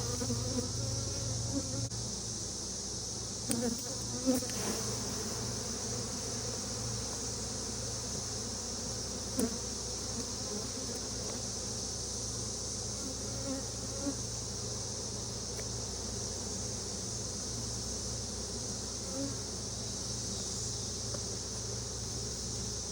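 Honeybees buzzing in an open hive during queen introduction from mini mating nucs, a steady dense hum of many bees close by, continuous throughout with occasional slight knocks and no speech.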